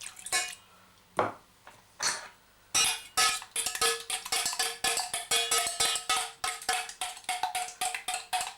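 Beaten egg and milk are whisked in a bowl, starting with a few separate clinks, then settling into a quick, steady rhythm of light tapping and sloshing, close and alone.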